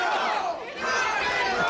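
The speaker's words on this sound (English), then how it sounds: "an entire sold-out crowd here in Yarmouth is chanting rock and roll" A sold-out wrestling crowd in Yarmouth chants loudly and continuously, a dense wall of voices throughout the short stretch with a brief dip midway.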